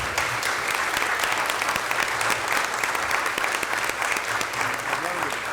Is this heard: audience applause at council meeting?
yes